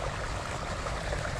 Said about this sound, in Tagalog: ang lakas ng tubig mga katong. Pagka rekta sa malaking hose.